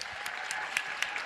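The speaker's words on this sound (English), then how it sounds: "One more round of applause for all the students" Brief, soft, steady applause from a school board meeting audience honoring scholarship-winning students, even clapping heard from a distance.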